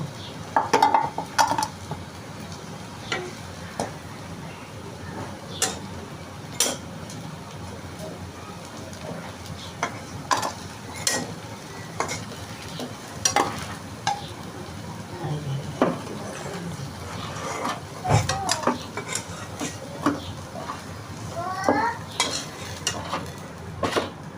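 Crisp lentil fritters frying in oil in a pan, a steady low sizzle broken by frequent sharp clinks and scrapes of a utensil against the pan, with no talking.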